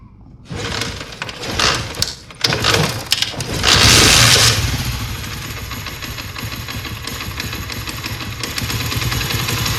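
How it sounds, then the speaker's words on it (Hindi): A motorcycle engine sputters to life after a few rough bursts on a cold morning start, then settles into a steady, close idle with a continuous rumbling putter. "तो सबसे पहले हम मोटरसाइकिल को स्टार्ट करते हैं,"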